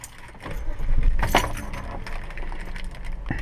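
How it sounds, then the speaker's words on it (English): Keys jangle and click in the ignition as a car is started, a burst of metallic rattling followed by a brief engine turnover and low idle rumble, close and clear with no talking. "So I will start the vehicle"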